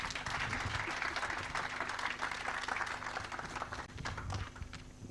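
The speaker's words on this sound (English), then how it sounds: "A round of applause for Brenda." A crowd at an International Youth Day gathering claps steadily for a speaker named Brenda, a dense, even wash of applause heard from some distance that holds for the whole stretch and eases slightly toward the end.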